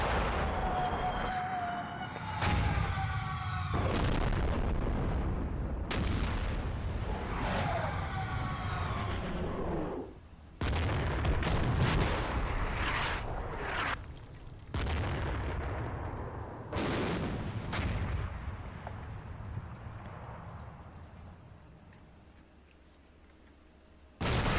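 Artillery fire in the wargame Combat Mission, a series of heavy booms and rolling blasts at irregular intervals, loud and sustained, with sharp impacts and a distant rumble between salvos.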